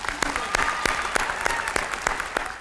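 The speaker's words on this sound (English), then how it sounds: "So let's give them a round of applause." Audience applause at a teacher of the year awards gala in a theater, loud, dense clapping from a large crowd filling the hall, sustained throughout.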